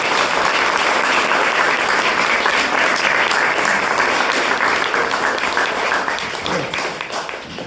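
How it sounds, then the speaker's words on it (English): A wedding audience gives loud, dense applause after a speech, sustained clapping from many hands that holds steady, then gradually thins and fades toward the end. "Round of applause."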